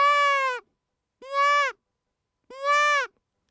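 A fawn bleat, blown softly on a predator call to imitate a whitetail deer, sounds three times: drawn-out, reedy, slightly quavering cries, close and loud, each followed by a brief silence.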